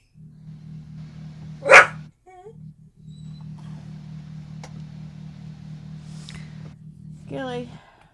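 A dog barks once, close and sharp, over a steady low hum. Later come a few faint yips and a whine-like sound, with people talking lightly in the room.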